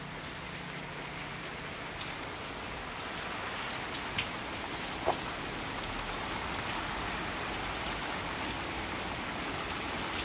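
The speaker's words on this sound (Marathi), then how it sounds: "आठवड्या अगोदर पाऊस धुमाकूळ घालत होता, तो आज परत सुरुवात झाली तशी." Steady rain falls without pause, a dense even patter on nearby surfaces as the rain returns a week after a spell of heavy downpours, with no voices.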